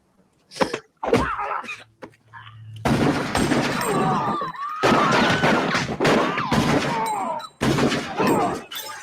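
Gunshots in a fight scene from the film The Long Kiss Goodnight, a few sharp bursts early on followed by a dense, loud mix of movie action sound and voices.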